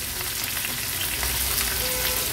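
Chopped medium onion frying in hot oil with curry leaves, a steady, dense sizzle with faint stirring, close and even throughout with no talk.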